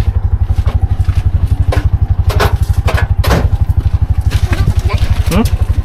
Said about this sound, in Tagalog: maganda, matining yung makina